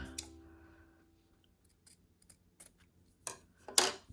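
Scissors snip off a stray piece of quilt fabric accidentally sewn onto a tab, giving a few quiet, scattered clicks followed by two sharper, louder cuts near the end, close by in an otherwise quiet room.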